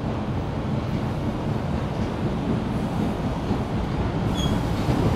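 Boston subway Red Line train pulling into Park Street station, a loud continuous rumble of wheels on track with a brief high squeal of brakes near the end.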